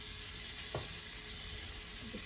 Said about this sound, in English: And then we're gonna add all that garlic and green onion.